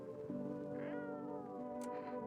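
A cat in the game No I'm Not A Human gives a drawn-out, wavering meow, clear and fairly close, over a quiet tonal game backdrop.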